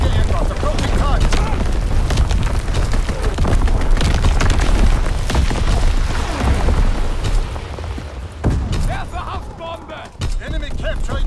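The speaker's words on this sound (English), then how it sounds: "Incoming enemy artillery." Heavy artillery shells burst continuously in a Call of Duty: WWII multiplayer match, a dense, loud roar of deep booms with scattered sharper impacts that thins out near the end.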